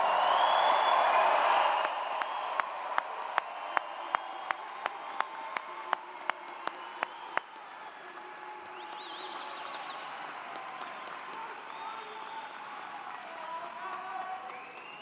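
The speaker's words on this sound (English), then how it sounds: "How about another really loud round of applause for our newest graduates?" A crowd applauds new graduates at a fall graduation ceremony, a broad, distant wash of clapping and murmur with a string of sharp, evenly spaced beats cutting through the middle stretch.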